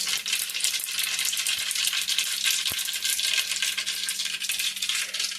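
Green chillies sizzle and crackle loudly in hot oil for a Konkan-style jackfruit vegetable dish, a steady dense hiss with a hum beneath it and no talking.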